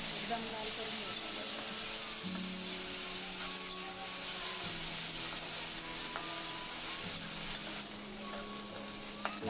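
Chopped onions sizzle in a pan as they are cooked until browned for a Konkan-style wet cashew vegetable dish, a steady close hiss with occasional stirring scrapes and faint tonal sounds in the background.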